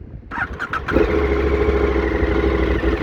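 A 2020 KTM 1290 Super Duke motorcycle engine cranks briefly with a few clicks, then catches and settles into a loud, steady idle close by.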